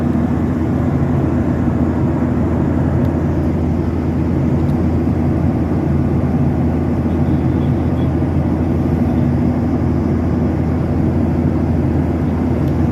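A steady, loud low engine drone fills an airplane cabin in flight from Dhaka to Sharjah through stormy weather, a constant rumbling hum with no breaks.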